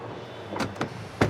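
The engine hood of a Kia Carnival LX with a 2.2-litre turbo diesel is released and opened, making three short, close mechanical clicks and clunks, the last one loudest, against a quiet background.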